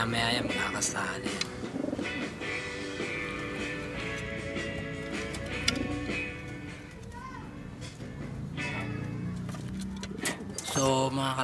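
Pigeons cooing continuously in a loft or yard, layered low coos under steady background noise and children's voices, with a brief louder burst near the end.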